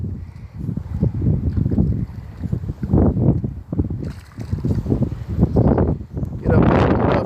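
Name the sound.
high wind while fishing from a boat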